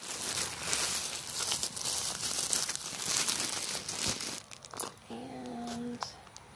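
Packaging crinkles and rustles as it is opened, a close, busy run of crumpling and tearing plastic or paper that eases off toward the end, where a brief tonal hum briefly appears.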